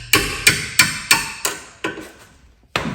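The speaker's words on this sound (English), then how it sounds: "Get yourself a hammer and just gently tap it." A hammer gently tapping a rusty, seized rear brake carrier bolt on a Vauxhall Mokka, giving five evenly spaced sharp metallic knocks, then a softer one and a final tap after a short pause, close and clear with no talk.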